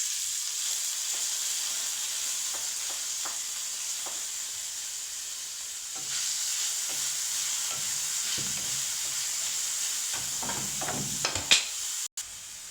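Sliced onions fry in a pan with garlic and ginger as a potato bonda filling, giving a steady, close hissing sizzle with occasional soft stirring scrapes and clinks toward the end.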